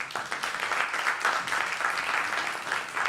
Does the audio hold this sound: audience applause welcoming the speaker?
yes